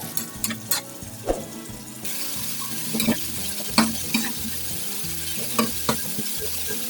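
Chicken cooked with masala fries on a hot tawa, street-food style, giving a steady sizzle broken by stirring scrapes and clinks of the utensil against the pan.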